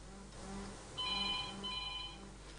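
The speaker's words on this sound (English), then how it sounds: "Phone's going berserk." A telephone rings with a bright electronic trill in two bursts over a steady background hum in a radio studio, fairly near and moderately loud, with no talk.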